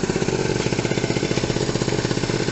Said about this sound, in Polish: Po 5 minutach kopania udało się odpalić skuter.